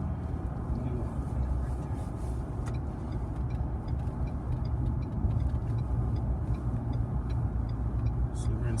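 A 2019 Ford Ranger pickup engine pulling under acceleration on a test drive, a steady low drone with road rumble heard from inside the cab, alongside occasional talk.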